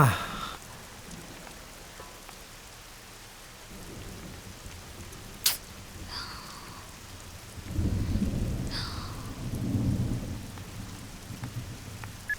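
A thunderstorm in a film scene: steady rain hisses throughout, a sharp crack sounds midway, and deep rolling thunder rumbles near the end.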